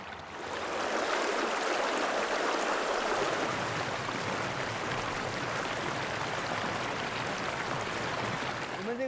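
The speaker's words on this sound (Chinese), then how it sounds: "感受我们雄伟的黄果树瀑布。" Huangguoshu Waterfall in Guizhou, China, a loud continuous roar of rushing water that swells in within the first second and holds steady throughout.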